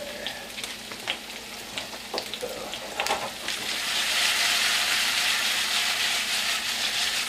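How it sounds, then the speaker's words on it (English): Potatoes sizzle steadily while being sautéed in a pan for hash, a broad frying hiss that swells louder and denser partway through, with a few scraping stirs early on. "So I try to make sure that the potatoes get sauteed really well."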